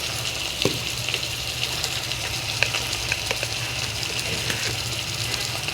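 Spice paste of garlic, cumin and chili sizzling in hot oil for a Bengali chital fish kofta malaikari, a steady close crackling frying hiss with a few soft stirring clicks throughout.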